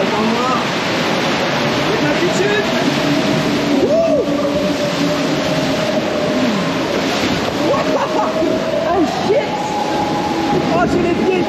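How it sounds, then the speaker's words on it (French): Waterfall pouring over a water ride at Knott's Berry Farm theme park, a loud unbroken rushing splash close by, with riders talking and exclaiming throughout. "Oh, il y a de la cascade de tous les côtés."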